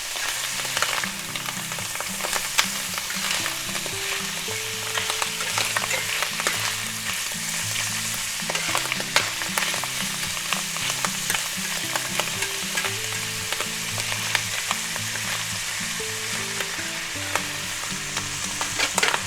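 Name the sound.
mushrooms being stir-fried and stirred in a pan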